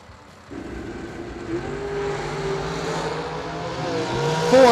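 The Jegs.com dragster runs down the drag strip at a Christmas bash event, its roaring engine a sustained, moderately distant drone that builds toward the end of the run.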